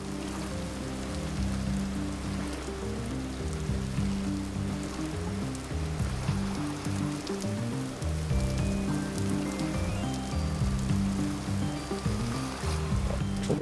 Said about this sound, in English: it's been raining almost constantly